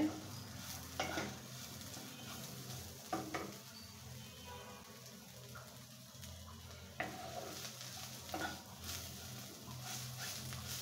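Vegetable bhaji frying in a little oil, a faint soft sizzle with occasional spoon scrapes and knocks against the pan, quiet and close, with a few brief background noises.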